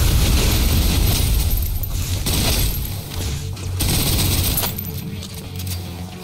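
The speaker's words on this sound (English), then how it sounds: "Suppressive fire." Dense bursts of suppressive automatic gunfire in Snowbreak: Containment Zone, loud and close, coming in several rapid clusters with short pauses between them.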